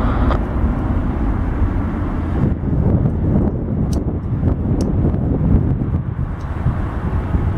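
A jet airliner rumbles at Detroit Metro Airport, a loud broad roar with wind buffeting the microphone throughout.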